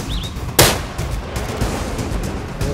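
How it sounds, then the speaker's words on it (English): A single loud rifle shot cracks close by during a buffalo hunt in South Africa, a sharp sudden blast followed by a brief outdoor echo and quieter ambience, with a bird chirping faintly before it. "First shot was a little bit high, but it dropped him."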